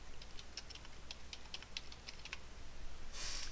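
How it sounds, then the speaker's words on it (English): Typing on a computer keyboard to enter a search keyword: a quick run of light, close key clicks over a quiet room hum, then a brief harsher burst near the end, with no talking. "We'll get started by typing in a keyword"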